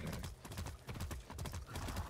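A horse gallops in the video game Far Cry 6, with quick, dense hoofbeats that stay close and fairly loud throughout the short stretch.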